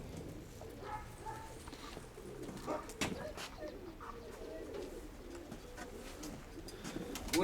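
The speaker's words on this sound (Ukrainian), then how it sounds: "вперше бачу у тебе, щоб голуби не злітали" Pigeons coo softly and repeatedly nearby, with faint rustling and shuffling in a quiet outdoor setting.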